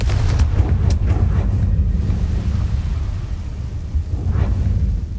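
A Confringo blasting spell cast in Hogwarts Legacy gives a loud, sustained explosive rumble with a few sharper crackling bursts early on, filling the whole clip without talk.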